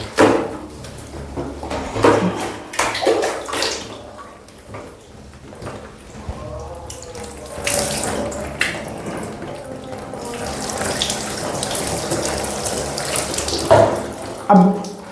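Water poured over the body during a ritual bath splashes and gushes in irregular bursts, close and moderately loud, with pauses and small knocks of a vessel between pours.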